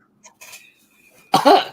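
A single sharp sneeze bursts out loud and close after a brief quiet pause with faint breathy sounds.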